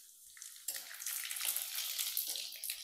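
A mustard and spice tempering hits hot oil in a wok with a sudden, loud, sustained sizzle that bursts in after a quiet moment and keeps hissing to the end.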